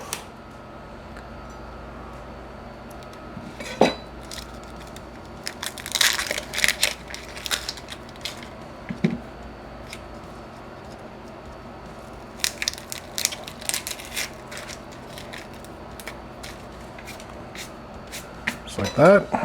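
A knife cuts through an onion on a cutting board while preparing chicken fajitas, giving scattered crisp crunching slices in short clusters against a quiet kitchen background.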